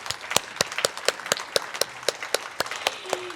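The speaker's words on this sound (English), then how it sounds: "So if we could just have a round of applause for these awesome people." Scattered applause for a panel at a transportation forum, with separate claps arriving in a loose, uneven rhythm rather than a dense roar. A small audience keeps it moderately loud for a few seconds.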